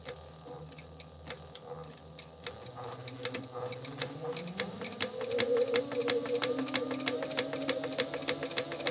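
Sewing machine top stitching fabric, starting with slow scattered needle clicks that speed up into a steady rapid ticking rhythm, close and fairly quiet.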